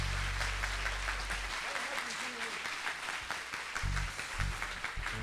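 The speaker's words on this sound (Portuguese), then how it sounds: "Vamos aplaudir o Senhor Jesus" A church congregation claps together, a moderate wash of applause heard at a distance beneath low rumbling tones, with a voice briefly present.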